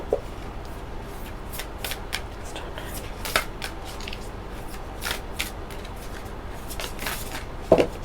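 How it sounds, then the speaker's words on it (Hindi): Tarot cards being shuffled by hand during a monthly reading, a steady run of soft riffling and slapping bursts repeating across the clip, close and moderately loud with no talk. "आज मैं कैमरे पर ही शफल कर रही हूँ।"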